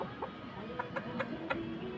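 A rooster on a terrace gives a series of short, clucking bursts in quick succession, close and fairly clear over a low background murmur.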